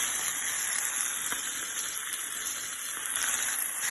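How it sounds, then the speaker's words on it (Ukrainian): Meat frying in a pan, a steady bright sizzle close by and alone that holds evenly before cutting off abruptly at the end. "Обсмажуємо м'ясо"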